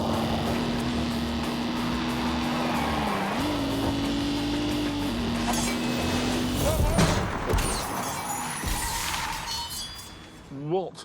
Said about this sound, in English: Whole car's vibrating. Yeah, that's a massive vibration.